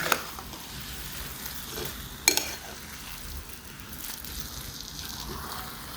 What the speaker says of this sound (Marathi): खोबरं आधी परतून घेतल्यामुळं ह्याला जास्त वेळ आता लागत नाही.